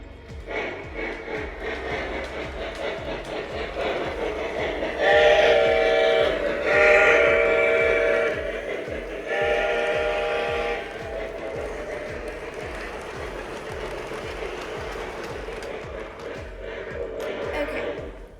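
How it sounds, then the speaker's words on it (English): A small Lionel model passenger train runs steadily along its track with a continuous whir, while a whistle sounds loudly in short bursts partway through. "All right, let's get to running."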